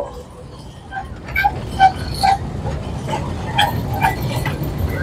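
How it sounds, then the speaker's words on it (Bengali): A train rolls past close by alongside a park at Siraj Uddan Park in Barasat near Kolkata, a rumbling run with brief metallic squeals and clanks, while people talk over it. "এই যে পাশ দিয়ে আসছে কিন্তু আমাদের ট্রেন"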